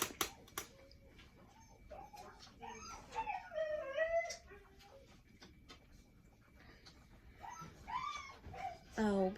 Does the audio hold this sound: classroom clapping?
no